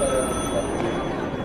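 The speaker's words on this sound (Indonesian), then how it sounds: "Namun terlihat para pegawai di kantor itu mengabaikan telepon dari Ranjit" A telephone rings in an office at the Ministry of External Affairs in New Delhi, a brief steady tone heard close over a dense background.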